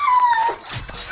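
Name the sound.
dog whimpering in a video game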